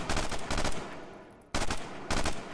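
A submachine gun fires in loud rapid bursts in the video game Rising Storm 2 Vietnam, with a long reverberant tail ringing out between three bursts, no voices.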